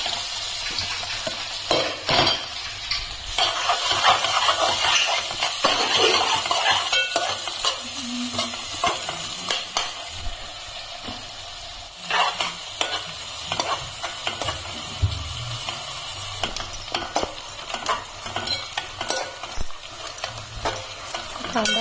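Vegetables for pav bhaji frying in butter and oil as they are stirred and scraped around the pan, a busy close-up sizzle broken by irregular clatters of the spoon.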